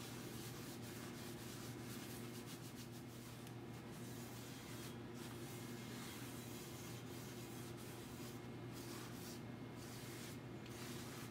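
Thin coat of flaxseed oil rubbed onto a cast iron skillet warmed on a low burner, a steady close, soft rubbing and wiping texture over a constant low hum, with brief sharper scuffs.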